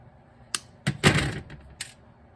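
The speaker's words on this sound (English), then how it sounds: "I got one here I'm going to cut and then bend it." A cotter pin cut with hand cutters during Honda GL1500 Goldwing assembly: a few sharp metallic clicks and snaps, close and fairly quiet, with a louder clack in the middle and short pauses between.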